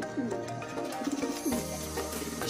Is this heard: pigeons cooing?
yes